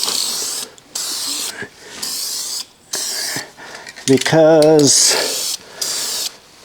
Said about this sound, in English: now I'm just going to give it another light coat of primer